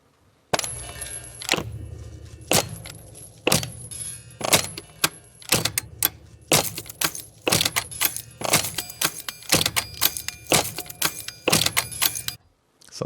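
Metallic destruction effects from a sound library: a rapid series of sharp metal clanks, rattles and jangling hits, loud and close, with bright ringing tails and no voices.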